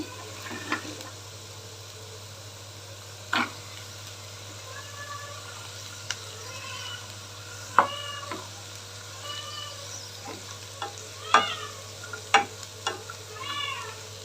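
Cabbage fries in a pan for a vegetable soup, a faint sizzle with scattered scraping stirs and clinks, heard close over a steady low hum, with a cat meowing now and then in the background.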